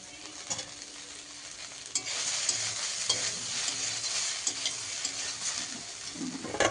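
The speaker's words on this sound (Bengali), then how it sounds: "সয়াবিন ভাজা।" Soybean chunks sizzle in a hot pan, loud and close, with repeated stirring scrapes and clinks over the continuous frying hiss.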